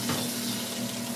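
A kitchen faucet runs steadily as something gets a quick rinse off, a soft continuous splashing hiss with a faint hum underneath, fairly quiet and close.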